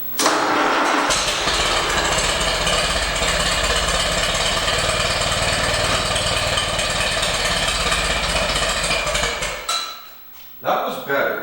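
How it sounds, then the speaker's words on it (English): A 1943 Allis Chalmers C tractor engine cranks and catches, then runs loud and steady with a rough, rattling mechanical chug before cutting off abruptly, followed by voices talking. "So if we put it back together right, the engine should start."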